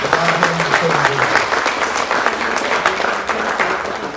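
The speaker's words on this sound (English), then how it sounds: "So I wanted to tell you a round of applause for Dick Preminger and the use of his facility" An audience claps steadily throughout a talk in a museum learning center speaker series, a dense, continuous burst of many hands with faint voices mixed in.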